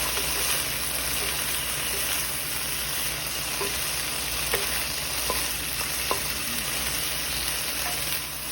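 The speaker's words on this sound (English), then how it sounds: "here we're just stirring everything up, get everything nice, heated" Broccoli and freshly prepped vegetables sizzling in a stir-fry pan for fried rice, a loud, even hiss with occasional sharp clicks from a utensil stirring through.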